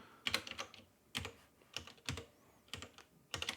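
Typing on a computer keyboard while text is entered in DaVinci Resolve 18.1, heard as several short bursts of clicking keystrokes separated by brief pauses, close and fairly quiet, with no talking.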